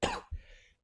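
A single short cough up close, with a brief throaty tail, then silence.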